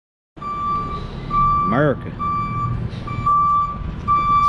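A truck's steady reversing beeper repeats at a regular rhythm, loud and close, running under someone talking outdoors beside a 2011 Suzuki GSX-R750 motorcycle.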